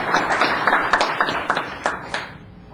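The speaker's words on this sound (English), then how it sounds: "And thank you for applauding so heartily." Audience applause at a town council meeting, a brief burst of scattered clapping at moderate distance, fading toward the end with no voices over it.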